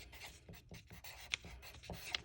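Close, scratchy strokes of writing out an algebra problem, multiplying and FOILing square-root terms, come in short bursts separated by brief pauses, with a few sharper taps. Nobody speaks.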